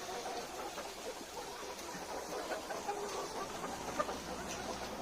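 Chickens in a coop cluck softly and intermittently at close range over a steady low background hum, with no talking.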